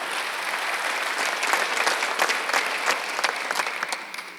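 Congregation applause during a Sunday church worship service, a dense, steady patter of many hands clapping up close for several seconds with a few sharper claps standing out near the end.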